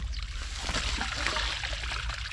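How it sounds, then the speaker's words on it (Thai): Water pours and trickles out of an eel trap lifted from the water, a close, continuous splashing dribble that runs throughout without talk. "โอ้น้ำไหลจากเลย"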